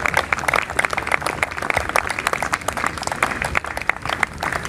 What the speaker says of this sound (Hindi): आपने भरपूर अंदाज से क्लैपिंग के साथ उनका वेलकम करना है।